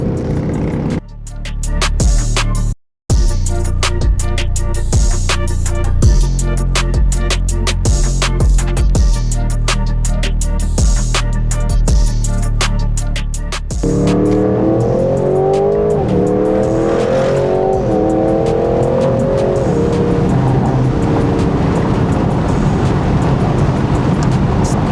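Aston Martin Vantage Roadster V8 exhaust, loud and close, with a sustained engine roar that climbs and falls through the gears, a brief sharp cut near the start, then rising tonal sweeps as the car accelerates hard.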